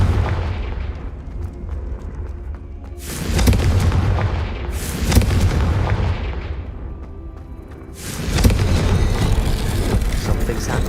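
Repeated spell blasts from Confringo, a fire-based blasting spell in the Hogwarts Legacy video game, boom out in three heavy, loud explosive bursts over a constant low rumbling background, with no talking.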